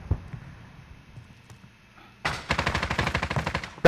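Video game gunfire: after a quiet stretch, a loud rapid burst of automatic fire, with about a dozen evenly spaced cracks, runs for over a second and ends in a final sharp shot.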